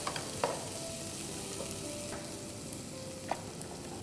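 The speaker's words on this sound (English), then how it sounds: "fry till the onions go translucent. As the onions are going translucent, add the green chilies." Onions and green chilies fry in a pan for a Kolhapuri missal, giving a continuous sizzle with a few sharp scrapes of a spoon stirring, and no voices.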